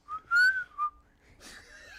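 A person whistles a few short melodic notes, a rising tone then a quick trill, followed by a breathy, noisy whistled phrase; close and fairly loud with no talking.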